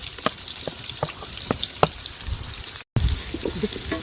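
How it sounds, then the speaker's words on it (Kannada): Onions frying in oil with cardamom, cinnamon and cloves for a soya aloo korma, a close, even sizzle punctuated by crisp spoon taps and scrapes, cut by a brief gap of silence, with no voices. "ಈರುಳ್ಳಿ ಚೆನ್ನಾಗಿ ಫ್ರೈ ಆಗಿದೆ, ಚೆನ್ನಾಗಿ ಎಣ್ಣೆಲೆಲ್ಲ ಬೆಂದಿದೆ"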